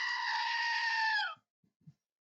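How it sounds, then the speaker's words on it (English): A loud, sustained screaming goat yell, a strained bleat held for over a second that then cuts off, followed by a few faint soft knocks. "We get a goat yell for that one."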